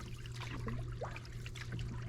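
Gentle current of the AuSable River flowing steadily, a soft, faint trickling and burbling that runs continuously and alone, with no voices.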